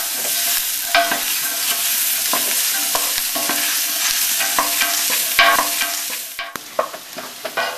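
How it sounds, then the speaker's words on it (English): Gumbo seasoning vegetables sizzle steadily in a pot over high heat while a spoon stirs them, with repeated scraping strokes over the continuous close frying hiss; no talking. "you have to constantly stir it because you're still over pretty high heat"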